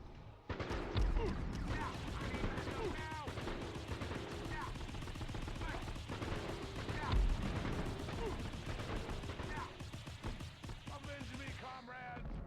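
Dense video-game gunfire crackles nonstop, with rapid shots and bursts layered over one another, loud and close throughout, and a voice speaks over it at times.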